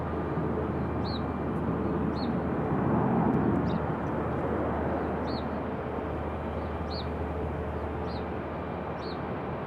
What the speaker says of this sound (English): Nice smooth touchdown for our 737.